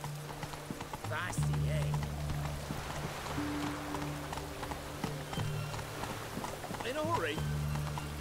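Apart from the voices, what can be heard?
horse hooves galloping in video game The Witcher 3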